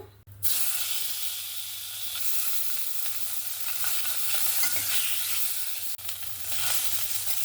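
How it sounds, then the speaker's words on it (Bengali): Tangra fish frying in mustard oil in a pan, a steady dense sizzle that starts abruptly and holds loud and continuous, with a brief dip near the end, no voices over it. "এবার বাদ বাকি মাছগুলোও ভেজে নেব।"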